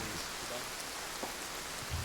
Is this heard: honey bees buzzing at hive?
no